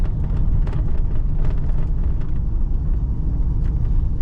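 A Pontiac Grand Prix with a faulty transmission drives steadily, its engine giving a continuous loud, low rumble with faint higher clatter and no clear gear change, and no one talking.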